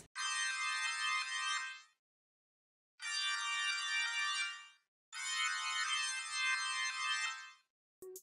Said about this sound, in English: So I got this organ one shot for my kit.